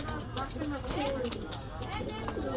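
Pigeons at a Pakistani pigeon market in Khulna coo softly in the background while a person talks over them throughout.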